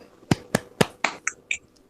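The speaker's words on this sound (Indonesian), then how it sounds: "Coba kita tepuk semangat dulu lagi." A school class performs a rhythmic spirit clap, six crisp, evenly spaced claps in quick succession, close and alone against a quiet background.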